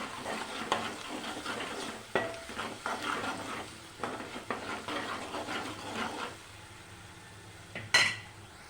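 A spoon stirs turmeric into brinjal curry in a pan, giving soft, irregular scraping and light sizzling close by that fades near the end, followed by one sharp clink.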